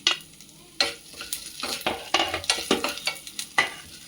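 Ginger is stir-fried in a pan with urad dal and dried red chillies until browned. Quick, repeated scrapes and clicks of a spoon over a faint crackling sizzle, close by.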